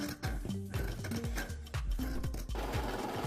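A sewing machine runs in short bursts while sewing the second stitch on a turned-out fabric project, its motor whirring up and stopping repeatedly, close and alone.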